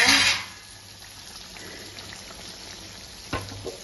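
Tarle sardines frying in a pan, a low steady sizzle with a louder burst at the start and a couple of brief clatters near the end, no speech.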